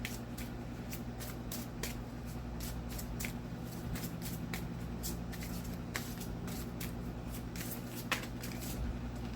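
Tarot cards are shuffled and drawn in a steady run of quick, soft snaps and flicks over a low constant hum. The sound stays fairly quiet, with no talking.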